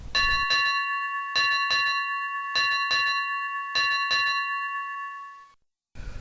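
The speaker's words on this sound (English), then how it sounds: "The 4 double chimes rang out across the ship" A ship's bell struck by hand on a line tied to its clapper, ringing out eight bells as four evenly spaced double strikes with bright sustained ringing. A short louder noise follows at the end.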